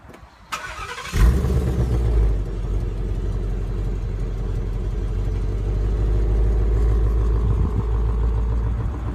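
A 2016 Ford Mustang GT with automatic transmission starts by remote, firing up with a loud burst after a brief click, then settles into a steady, deep rumbling idle that holds close and strong throughout, with no talking.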